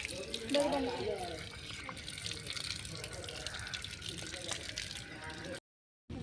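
Water running and splashing steadily as feet are washed before entering a temple, a continuous close wash of flowing water with faint background voices, cut off briefly near the end.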